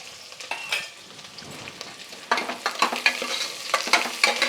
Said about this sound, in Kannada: ನೋಡಿ ಈಗ ನಾನು ಎರಡು ಗೆಡ್ಡೆ ಬೆಳ್ಳುಳ್ಳಿ ಹಾಕ್ತಾಯಿದ್ದೀನಿ